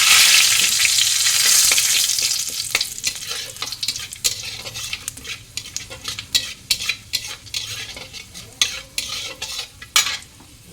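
Cinnamon, three cardamom pods, dried chillies, cumin seeds and bay leaves crackle in hot white oil, a loud sizzle settling into softer frying punctuated by sharp clinks of a stirring utensil against the pan.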